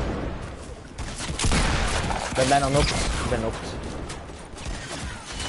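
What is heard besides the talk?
gunfire in a video game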